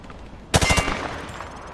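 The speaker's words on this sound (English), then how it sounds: "He sprayed bullets all over the damn place." A rifle fires a short burst of about five rapid shots from the hip in Call of Duty Modern Warfare 2, loud and close, followed by a brief ringing tail.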